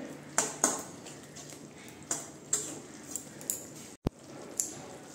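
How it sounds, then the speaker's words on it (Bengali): Eggs mixed with spices in a pan, with a utensil knocking against the metal in sharp, irregular clinks and soft scraping between them. The sound is close and carries no speech. "ভালো করে আমি মিলিয়ে দিচ্ছি মশলার সঙ্গে"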